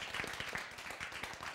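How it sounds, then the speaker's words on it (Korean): An audience at a Korean Bible-and-science lecture giving a short burst of applause, quiet, rapid, rhythmic clapping heard from a distance. "예, 박수."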